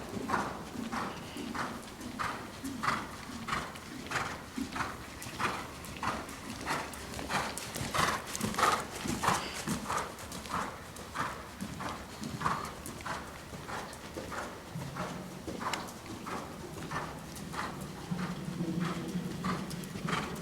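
A horse's hooves clip-clop rhythmically on the ground during a riding clinic, a steady even beat that continues throughout, with faint low rumbles behind it and no clear speech over it.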